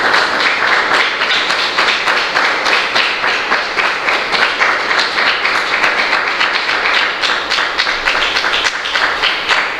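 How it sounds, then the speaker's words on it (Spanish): A messianic church congregation claps loudly and steadily for about ten seconds, a dense, even roar of hands with no talk over it. "Denle el aplauso a Yahweh, désele fuerte."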